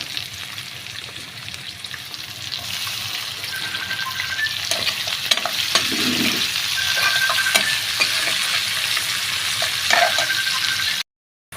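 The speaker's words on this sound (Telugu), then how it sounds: "ఉల్లిపాయలు జీలకర్ర ఆవాలు కరివేపాకు ఇప్పుడైతే క్యాప్సికమ్ కట్ చేసి పెట్టుకున్నాం కదా ఏదైనా వేసేసుకున్నాము" Onions, cumin, mustard seeds, curry leaves and capsicum sizzle steadily in a hot pan for a fish, brinjal and potato curry, with a loud continuous fry and occasional stirring scrapes, no voices.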